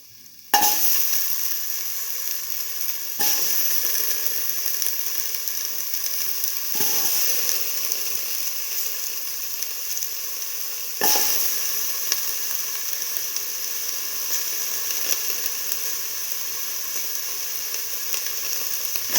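Potato pieces fry in a pan with a loud, steady hiss and sizzle, broken by a few sharp utensil clacks as the pan is stirred every few seconds.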